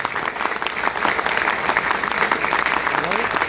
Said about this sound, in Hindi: मेरे गुरु मिस्टर हुसैन सर के लिए एक बार जोरदार तालियां